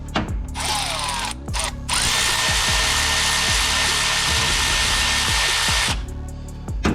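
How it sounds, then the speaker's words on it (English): A Toyota Corolla's alternator belt tensioner is loosened with a power ratchet or drill: a short burst, then a steady, loud mechanical whir with rhythmic clicking for about four seconds before it stops. "I'm gonna go ahead and loosen this tensioner part up"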